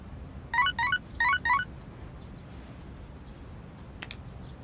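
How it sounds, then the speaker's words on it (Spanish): A text message notification in the video game Persona 3 Reload sounds as four quick bright chirping tones in two pairs, followed by a brief sharper blip, over a quiet background hum. "Un mensaje de texto."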